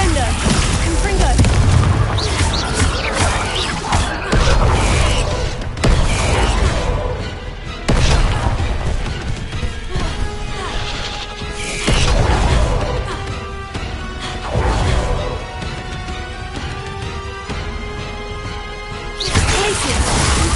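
Repeated spell blasts, Confringo and Descendo among them, burst again and again in Hogwarts Legacy combat: loud booming crashes and whooshes layered over game music, with shouted spell names throughout.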